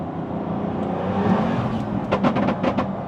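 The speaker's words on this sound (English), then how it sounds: "Sounds like someone's banging on the car, but that's the exhaust." Modified hypercar exhaust heard from inside the cabin, a steady engine drone followed by a quick series of sharp bangs and pops near the end.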